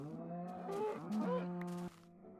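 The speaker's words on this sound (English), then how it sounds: "There are more cows around here." Cows low in beta Minecraft: one long, clear, close moo that bends in pitch, followed by a quieter second call, over a faint background.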